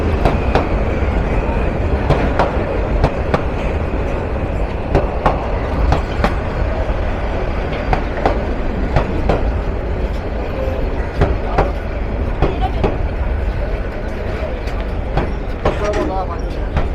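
A local train from Rangpur to Burimari rolls along with a steady rumble and regular clickety-clack of wheels over rail joints, heard from inside the carriage, with faint voices in the background.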